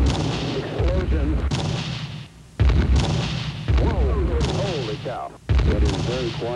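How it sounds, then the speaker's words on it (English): Loud booming artillery fire and explosions from a nighttime attack, several heavy blasts striking in irregular bursts with rumbling low end, a voice talking between them. "A big explosion. The enormous explosion."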